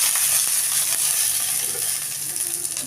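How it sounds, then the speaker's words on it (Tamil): Dried red chillies fry in a hot pan, giving a steady, bright sizzle with faint crackles and light scraping, close and unbroken, with no voices. "நல்லா செவந்துருச்சு இப்போ இதுலேயே வரமிளகாய் போட்டுருவோம்"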